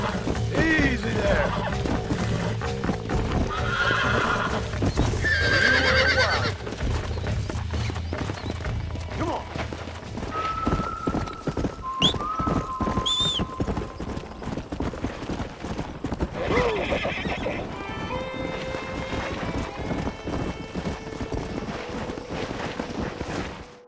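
In Red Dead Redemption, horses clip-clop and whinny amid wind, with a loud, busy texture of hooves and several high neighs, while people talk over parts of it.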